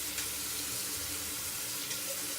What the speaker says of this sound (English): Add some more water.